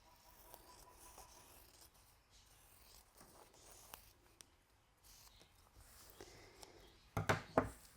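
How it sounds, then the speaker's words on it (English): Sharp fabric scissors cut around the edge of a fabric eye patch for a handmade snake toy, giving quiet intermittent snips and rustles of cloth, faint and close, ending in a louder burst of handling. "we're just going to use some sharp fabric scissors and cut right around the edge of"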